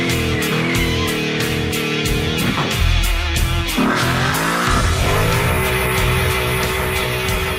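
A Ford Mustang tearing through a burnout, its engine roaring loud and steady with harmonic revs rising and falling, under a layer of music, while a rasping tire squeal cuts in and out.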